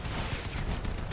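Shotgun fire in the vehicle combat video game Crossout, a dense, continuous burst of loud blasts that fills the whole moment with no clear gaps between shots.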